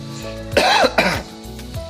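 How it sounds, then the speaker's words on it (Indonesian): One harsh, close cough, quickly followed by a second shorter one, loud against a quiet room. "batuk di komik aja ini"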